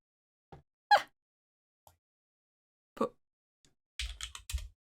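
Computer keyboard typing while entering a Pokémon name into a Pokémon Showdown team builder: a few separate soft keystrokes early on, then a quick cluster of close, crisp key taps at the end, with no voices.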